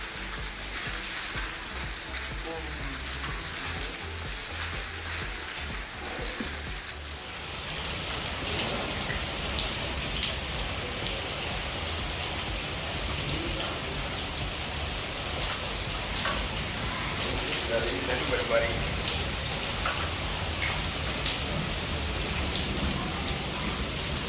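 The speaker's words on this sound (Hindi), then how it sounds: "हमने इंजॉय किया इस बारिश को।" Heavy rain pours steadily during a family gathering, a dense continuous hiss of drops on surfaces that grows fuller after the first few seconds, with no talk over it.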